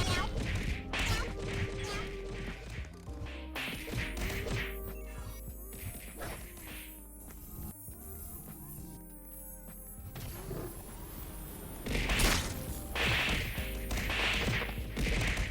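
Repeated smacks and whooshing swipes land in a brawl in the Roblox game Baddies, a series of sharp hits scattered over busy game sounds, moderately loud throughout.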